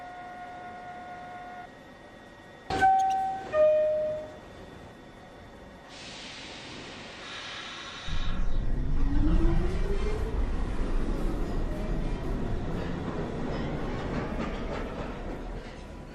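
A New York City subway 1 train sits at Lincoln Center station, where tones and door-closing chimes sound before the train pulls away, its motors and wheels building into a rising rumble and whine that fills the platform.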